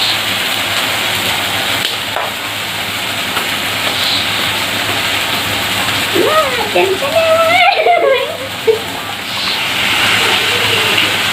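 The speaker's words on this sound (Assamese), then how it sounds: "দিম চিলি পাউডাৰ দিম আইও তেলটো ফুটিছে" Turmeric and chilli powder hiss and sizzle in hot oil in a home kitchen while a person talks over the steady frying noise.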